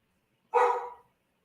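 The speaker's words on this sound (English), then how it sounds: "My dog is in there crazy right now." A single sharp dog bark rings out indoors, fairly close and loud, with a brief tail and no talk around it.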